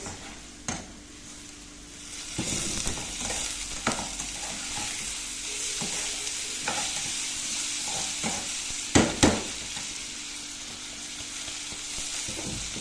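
Rice with vermicelli being stirred in a pot while cooking, with a steady frying sizzle and occasional spoon scrapes and knocks against the pot, a couple of louder clanks near the end.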